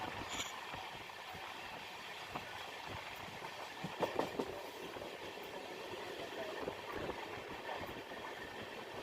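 An intercity train runs from Jeur to Solapur, its steady rumble and faint clickety-clack on the rails heard from inside, with a few brief louder knocks midway and no talk.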